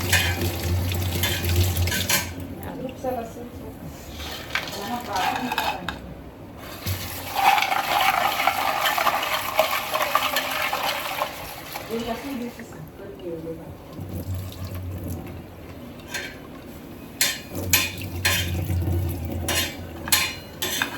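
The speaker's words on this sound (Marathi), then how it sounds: "इकडे आईने मसाला भाजत घेतलाय." Masala spice mix dry-roasted in a pan, a continuous close sizzle with scraping stirs and clinks of utensils against the pan, under frequent speech.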